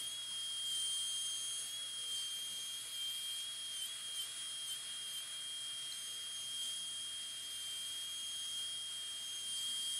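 A dental high-speed drill whines steadily while cutting a light chamfer on the lingual side of a tooth during a PFM crown preparation, a thin continuous high-pitched whistle with faint hiss, close and alone.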